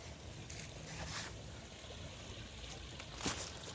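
Water trickles and flows outdoors after rain near banana leaves, a faint steady babble with a few brief splashy bursts and no voices.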